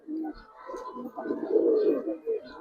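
A male pigeon coos in a low, rolling burst lasting a couple of seconds, close and fairly soft. It is one of a collection of Giribaz and colour-breed pigeons.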